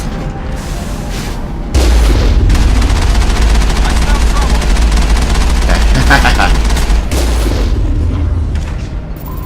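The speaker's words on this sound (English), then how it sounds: "There's other stuff shooting at us, isn't there?" Gunfire in Mass Effect on the planet Therum: loud, continuous automatic weapon fire with heavy booms, bursting in after a quieter start and sustained through the clip, with talking heard over it.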